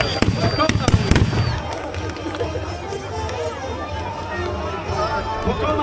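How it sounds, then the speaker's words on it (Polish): A celebratory salute of gunshots at a castle legend event crackles in a quick volley of sharp pops over a cheering, chattering crowd, loud and close, then fades into steady crowd noise. "Rozległy się wystrzały na wiwat dzielnego kasztelana"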